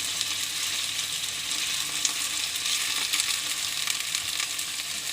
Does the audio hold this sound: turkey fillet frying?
yes